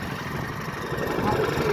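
A farm tractor engine runs in the rain with a steady mid-low droning hum, close and continuous, rising slightly toward the end, while people talk over it.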